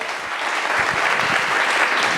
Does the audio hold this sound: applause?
yes